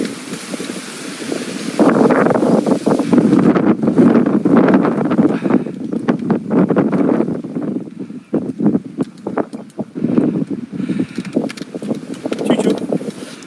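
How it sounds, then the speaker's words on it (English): Strong wind buffeting the microphone in heavy, rumbling gusts that rise and fall, loud and close throughout. "It's a bit breezy"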